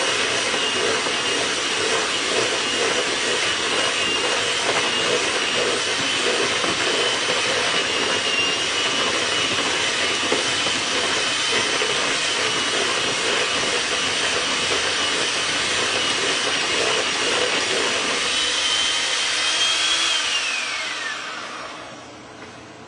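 An electric mixer beats Watergate cake batter, its motor giving a loud, steady whirring drone close by for about twenty seconds before it winds down and stops. No one speaks.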